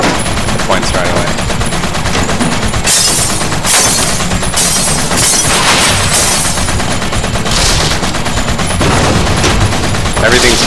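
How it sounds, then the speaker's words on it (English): Rapid, loud bursts of gunfire in the action video game WET's clay pigeon shooting stage, mixed with game music, continuous and dense throughout with repeated sharp blasts. "There's the clay pigeon noise."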